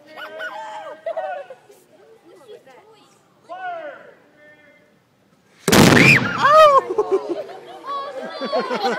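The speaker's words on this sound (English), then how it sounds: "We're getting ready to fire the cannon" Talk and chatter lead into a single loud, sudden cannon blast, followed by voices and excited reactions as the report dies away.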